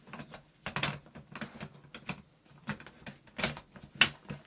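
A Godox S bracket for a collapsible beauty dish snapping into place: a series of crisp plastic-and-metal clicks and ratcheting taps spread over a few seconds, close up, with a sharper final snap near the end and no talking.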